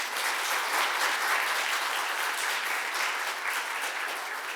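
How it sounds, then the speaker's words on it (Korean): A church congregation applauds to welcome newcomers during a Sunday service, making an even, sustained wash of clapping that holds at a steady level and eases off slightly at the end. "여러분 박수로 환영해 주시기 바랍니다"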